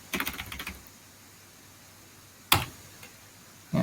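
Short burst of computer keyboard typing at the start, a few keystrokes entering a command in a terminal folder, then quiet with one sharp key tap and another near the end.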